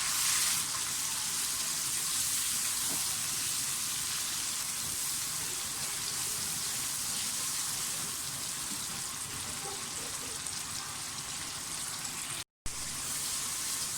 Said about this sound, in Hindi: और घी काफ़ी गर्म है। साथ ही मैं इसमें सबसे पहले मैं इसमें टमाटो प्यूरी डाल दूँगी।